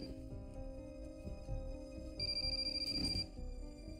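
A telephone ringing indoors in a tense drama scene, repeated electronic ring tones sounding over a low musical bed, moderately quiet and steady across the span.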